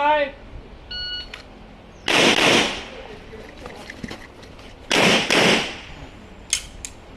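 Pistol shots ring out on an IDPA practical shooting course, with short electronic timer beeps first and then loud, sharp bursts spaced a few seconds apart.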